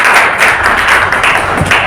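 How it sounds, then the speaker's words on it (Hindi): Seminar attendees in Chhatarpur give a round of applause for Abhyas Academy: dense, even clapping from a crowd with scattered louder slaps, sustained throughout. "और एक बार अपनी अभ्यास अकेडमी के लिए ताली"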